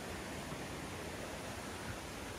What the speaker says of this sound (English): I guess it's a creek